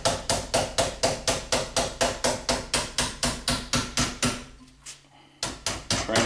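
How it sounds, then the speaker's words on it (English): Repeated hammer blows forming an aluminium wing rib flange into position, about two strikes per second in a steady near rhythm, pausing briefly before resuming, with no talk. "And we're just gently hammering that flange into position."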